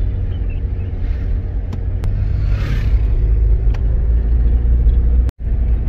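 A car climbing uphill with gentle acceleration gives a loud, steady low engine rumble heard from inside the cabin, with a brief dropout near the end and no talking.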